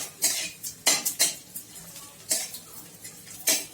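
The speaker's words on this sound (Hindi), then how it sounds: "थोड़ा थोड़ा डालकर इसको अच्छे से फ्राई करना है, इसको तल लेना है घी में।" Dink, an edible gum, frying in ghee while a metal spoon stirs it, giving repeated bright scraping and clinking strokes in an irregular rhythm, close and clear.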